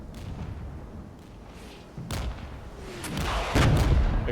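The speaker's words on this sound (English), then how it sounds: "Czechoslovakian artillery is firing." Czechoslovak artillery firing in the Cold War strategy game Regiments: several heavy thumping shots and booms at irregular intervals over a rumbling battle bed, growing louder toward the end, with no voices.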